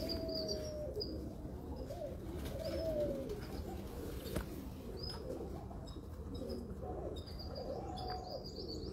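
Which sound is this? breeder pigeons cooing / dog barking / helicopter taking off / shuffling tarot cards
breeder pigeons cooing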